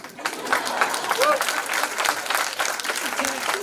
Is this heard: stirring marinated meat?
no